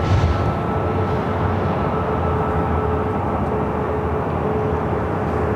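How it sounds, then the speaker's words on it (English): KLM Boeing 777-200ER airliner on its takeoff roll on the north side of Los Angeles International Airport, a loud, steady broadband jet roar holding even throughout with a faint tonal whine above it. "KLM flight 602 heading to Amsterdam at 777-200ER, heading up here for north side"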